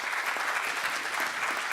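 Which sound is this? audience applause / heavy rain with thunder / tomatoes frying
audience applause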